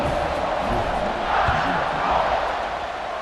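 A stadium crowd roars continuously in the college football video game EA Sports College Football 26, forming a broad, loud wash of cheering, with a commentator's voice faintly mixed in.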